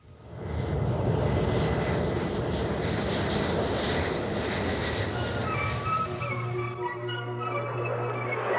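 An airplane in flight drones steadily with a broad engine roar that holds for several seconds, joined late by a low hum, with no talking.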